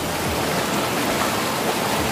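A jungle waterfall in Khao Sok, Thailand, roars as a dense, steady rush of falling water, close and loud with no voices.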